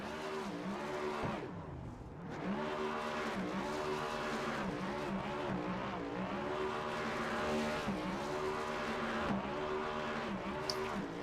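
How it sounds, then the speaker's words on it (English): An ANZCAR Cup race car doing a tyre burnout at Las Vegas, engine droning and rising and falling in pitch with sustained tyre squeal, continuous and fairly close. "We see some nice burnout here from Hedershire."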